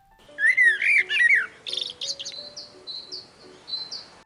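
A blackbird sings nearby, rich fluting phrases followed by higher chirps and twittering notes against a quiet background.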